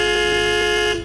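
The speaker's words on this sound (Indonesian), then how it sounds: "Eugene terlihat terbangun karena suara klakson mobil yang sangat keras" A very loud car horn blares in one sustained, steady honk that fades slightly at the very end.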